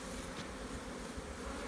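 Honey bees in a nuc hive giving off a dense, steady buzz, close and continuous through the brief moment, with no voices.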